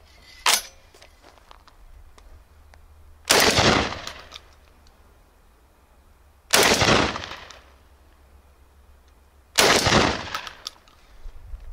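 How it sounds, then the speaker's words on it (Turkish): A magazine-fed smoothbore shotgun fires Sterling 30 gram birdshot cartridges, four loud, sharp blasts spaced about three seconds apart with a short decaying echo after each, with no talking. "Şimdi son olarak Sterling 30 gram saçma fişeğiyle namlu çıkış hızına bir kontrol edelim."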